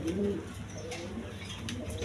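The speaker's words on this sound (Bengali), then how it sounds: "এখানে এক পেয়ার কালারিং গররা কবুতর আছে" A pair of coloured Gorra pigeons give soft, low cooing notes, a few short murmured calls close by over quiet background hiss.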